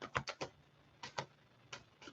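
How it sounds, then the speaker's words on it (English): Tarot cards are shuffled in short, soft clicking bursts, a few quick taps grouped together with pauses between, faint and close with no talking. "keep hearing a jingle every time I'm shuffling."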